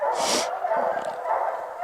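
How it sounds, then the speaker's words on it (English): Hunting hounds bay at a bear treed in the woods, a loud burst of baying early on, then fainter barks and whimpers that carry on through a steady background. "Got the dogs down here treeing"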